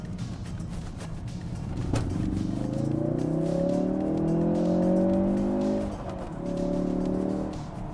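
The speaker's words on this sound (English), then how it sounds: "You can hear the little backfires." A 2016 Ford Focus RS engine revs and downshifts up close, the pitch climbing and dropping, with small popping backfire crackles as it comes off throttle.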